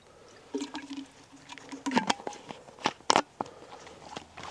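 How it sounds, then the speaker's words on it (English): Water is poured through the spout into a Kelly Kettle Scout camping kettle, with soft trickling and patter broken by a few sharper splashes and knocks, close and fairly quiet. "we're going to fill the kettle from our chosen water source via the spout"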